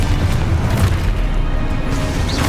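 A Confringo blasting spell bursts in Hogwarts Legacy, a loud, dense boom with rumbling low end that fills the short moment without any talk.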